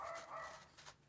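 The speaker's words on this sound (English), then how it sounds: "That's my dog." A pet dog gives a couple of quick barks indoors, sounding faint and a little distant, with no voices over it.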